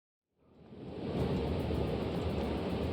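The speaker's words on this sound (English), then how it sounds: "The roar of the approaching waterfall clouds your thoughts." Roar of an approaching waterfall in the video game The Banner Saga 2, rising from silence within a second into a dense, steady rushing wash of water that stays loud and constant.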